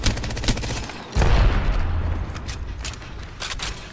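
Rapid bursts of video game gunfire from Apex Legends, with several quick automatic volleys and sharper single shots fired up close, one heavier blast in the middle, and no talking over it.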